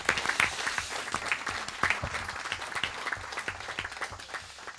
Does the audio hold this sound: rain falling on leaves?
no